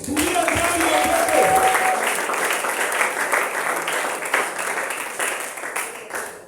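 A church congregation breaks into applause, a dense wash of clapping that swells early and then gradually thins, with voices audible alongside.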